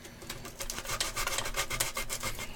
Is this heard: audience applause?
no